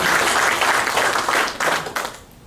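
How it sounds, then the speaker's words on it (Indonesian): A church congregation at a worship service claps and applauds loudly and steadily, then the clapping fades out over the last half second. "Tepuk tangan buat Tuhan."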